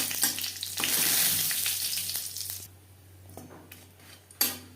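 Panch phoron whole spices and chili sizzle loudly in hot oil for masoor dal, a bright crackling fry that drops to a softer hiss, with a spoon clinking against the pan.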